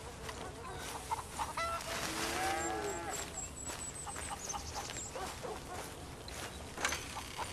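Chickens cluck and squawk around a ranch yard in Red Dead Redemption 2, scattered calls rising over a busy outdoor background with other farm animals and a faint lowing cow, moderately near.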